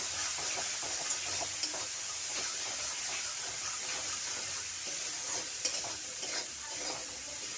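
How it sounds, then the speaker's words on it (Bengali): Beans curry cooks in a pan as water goes in over the spices, giving a continuous close sizzle and hiss with faint stirring clicks throughout and no talking. "মশলা প্লেটকে দিয়ে জল দিয়ে দিচ্ছি"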